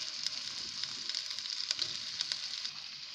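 Fish masala gravy bubbling over a medium flame, giving a steady, fairly quiet frying hiss with small crackles and pops throughout and no voices.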